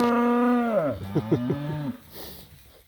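A loud, close cow bellow that breaks into a wavering, stuttering low moo before trailing off.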